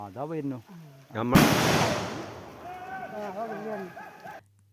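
A forest department tranquilizer dart gun is fired at an injured wild elephant in Kottopadam, Mannarkkad. A single sudden loud bang rolls off into a long fading rumble, with a voice speaking before and after.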